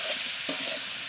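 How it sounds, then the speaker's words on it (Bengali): Eggplant pieces frying in oil in a home kitchen in Jharkhand: a brief, steady sizzle up close with one light spatula scrape. "ওই তেলে বেগুন কটা একটু ভেজে নেব"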